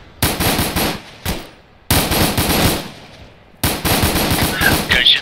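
Loud, close machine gun fire in ARMA 3, a military video game, comes in long sustained bursts separated by brief gaps, with a faint voice underneath.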